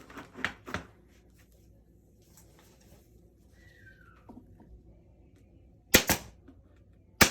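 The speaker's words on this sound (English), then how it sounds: "I'm going to put 3 normal staples." A staple gun fires into canvas stretched over a wooden frame: three sharp, separate snaps near the start, then quiet handling sounds, then two more loud clicks at the end.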